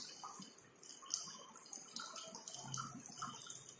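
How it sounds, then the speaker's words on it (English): Water trickling and dripping through a cone of filter paper fixed in a funnel into a beaker during a classroom filtration demonstration, soft irregular close drips and splashes. "the water is passing through the cone, this funnel, in which the filter paper is fixed onto the funnel"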